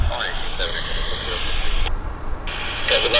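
An airliner departs at Vancouver Airport, its engines a steady roar with whining tones, loud and continuous; a voice talks over the noise.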